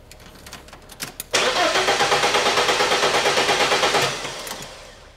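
A car fitted with an anti-theft immobiliser kit starts on its own keys: a sharp click, then a few seconds of rhythmic starter cranking before the engine catches and settles into a quieter idle, up close.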